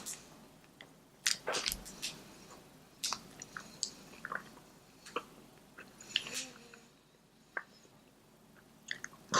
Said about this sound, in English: I'm having a hard time chewing this.